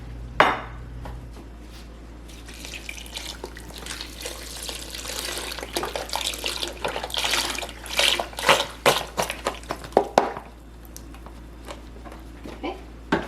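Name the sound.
pouring vegetable broth into slow cooker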